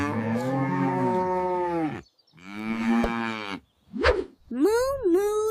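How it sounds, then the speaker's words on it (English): A cartoon cow on a farm moos loudly several times in a row, long drawn-out lowing calls separated by short pauses, with no talking. "This is a cow. Moo moo."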